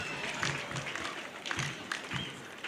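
Audience applause at a high school mentoring event, a steady wash of many hands clapping for nearly three seconds at moderate level with a few sharper claps standing out.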